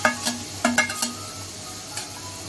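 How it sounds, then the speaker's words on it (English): Green chilies and tomatoes tipped into a frying pan while cooking egg biryani, with a few clinks of a utensil against the pan over a low sizzle, then quieter frying. "I am adding 7 green chili and 3 tomatoes."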